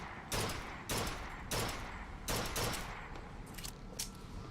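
Bursts of gunfire in the video game Bioshock Infinite, about five sharp volleys at irregular intervals, fairly loud and close with no talking over them.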